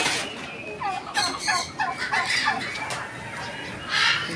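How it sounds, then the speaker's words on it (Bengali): Turkeys gobbling in a farm's poultry section, a series of rapid warbling gobbles close by, one bird answering another, with a sharper call near the end and no talk. "এই এখানে টার্কি আছে,"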